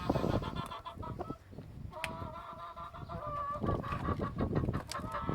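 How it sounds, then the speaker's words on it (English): Backyard hens and young chicken biddies clucking and squawking steadily, several birds close by, with overlapping calls and rustling through the whole stretch. "Yes, and the chicken biddies."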